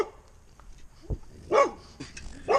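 A dog gives several short, sharp barks, spaced out and fairly close, with a quieter yelp in between and faint background noise.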